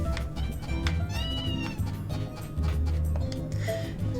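A cat meows several times in the farming game Story of Seasons: A Wonderful Life, short rising cries over steady background game music, with no voices.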